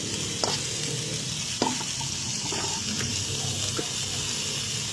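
Ground pork sautés in a pan, a steady sizzle with a few sharp clanks of a spoon or spatula stirring against the metal, close and continuous.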